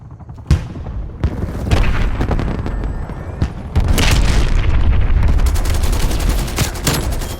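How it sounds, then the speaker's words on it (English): Heavy booms and bursts of gunfire crash through a busy, noisy battle scene in the video game Call of Duty: Black Ops Cold War, with loud explosive blasts building into a dense, rumbling roar. "That was a big explosion."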